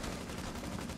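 Gunfire during a Rainbow Six Siege match, a short, dense burst of rapid shots with no talk over it.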